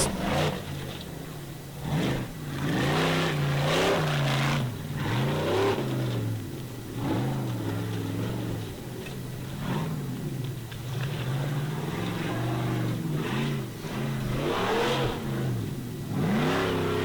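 A powerful Formula Offroad racing car at an Icelandic torfæra event revs its engine hard in repeated surging bursts, loud and close, rising and falling again and again.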